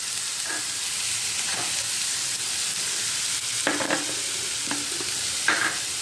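Mutton keema frying in a pan with turmeric, giving a continuous soft sizzle with occasional scrapes and stirring clatters.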